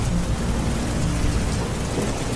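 Steady rain pours during a thunderstorm, with dense, even hiss and low rumbling underneath that holds constant throughout, with no voices.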